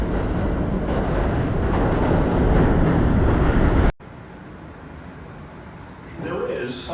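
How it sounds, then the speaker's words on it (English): A New York local 7 subway train on the steel elevated line approaches the station, a loud rumbling roar that ends abruptly, followed by quieter platform ambience and faint activity. "There is a local 7 train to Flushing Main Street."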